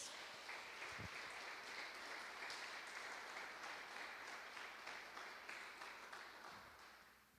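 A church congregation claps for Jesus during an online worship service, a sustained, even patter of many hands held at a steady level before slowly fading at the end.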